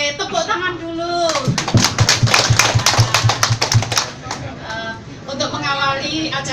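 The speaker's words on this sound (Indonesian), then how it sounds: "Oke, tepuk tangan dulu." An audience at a Prolanis health gathering at a community health centre claps hands in a burst of rhythmic, fairly close claps, with voices talking before and after.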